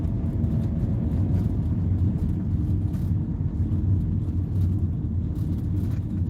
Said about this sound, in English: Ooh, rice burner. Ooh. Whoa, listen to that fierce car.